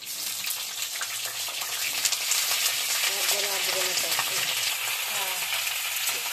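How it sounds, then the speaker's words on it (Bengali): Cauliflower pieces fry in hot oil in a wok, making a loud, steady sizzle with bubbling crackle throughout, heard close up with no one speaking. "তেলের মধ্যে আমি কপিগুলো ছেড়ে দিচ্ছি। কপিগুলো আমি লাল লাল করে ভেজে নেবো।"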